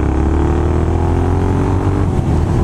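Triumph Scrambler 900 motorcycle cruising at about 60 mph, around 3,300 RPM, giving a steady loud engine drone mixed with wind rush throughout, with no talking.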